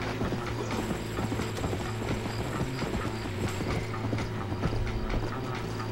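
Horse hooves clatter steadily in the video game Red Dead Redemption, making a dense, continuous run of hoofbeats over a rumbling, mechanical background with no talk.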